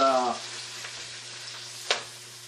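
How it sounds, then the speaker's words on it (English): Mushrooms and sun-dried tomatoes sautéing in a pan, a low even sizzle with one brief louder scrape of stirring, after a short tonal sound at the very start. "after this sautés for a few minutes, maybe 4 or 5 minutes"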